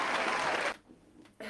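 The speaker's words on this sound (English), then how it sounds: "Round of applause for Benji" Short burst of clapping from a small group, loud for under a second, then quiet with a faint noise at the end.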